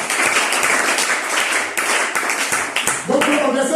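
A church congregation in Brazzaville applauds to acclaim the Lord, a dense, steady wash of many hands clapping throughout, with a voice rising over it near the end.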